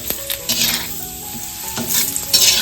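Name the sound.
papad frying in hot oil on a pan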